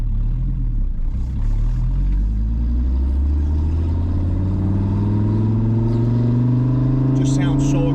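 A 2009 Dodge Viper ACR engine revs loud and close, its pitch climbing steadily through a long aggressive run, with a listener's voice exclaiming over it.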